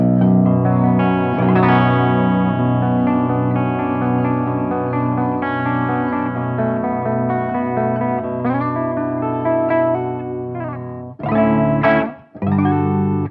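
A clean, sustained bass guitar plays through an amp with no distortion, notes ringing and overlapping, then a few sharper plucked notes near the end.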